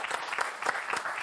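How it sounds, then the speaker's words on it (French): Brief, fairly faint applause from a small group at a makeup demonstration, a few uneven bursts of clapping with no voices over it. "vous pouvez vous applaudir"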